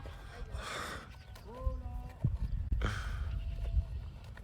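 Horse in a video game: soft clip-clop hoofbeats with a brief whinny-like call partway through, heard close under ongoing talk and background game noise.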